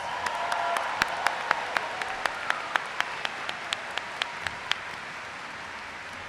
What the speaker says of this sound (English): if we could give our graduates a round of applause one more time